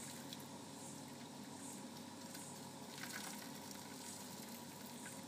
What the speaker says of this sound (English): I'm going to show you the kettle of boiling water being poured over the duck.